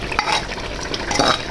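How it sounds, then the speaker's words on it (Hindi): Fresh spinach added to beef cooking in a pot with garlic and ginger, giving a rustling stir and sizzling fry with a couple of scraping bursts, loud and close. "तो अब ये सारी पालक इसके अंदर शामिल कर दें।"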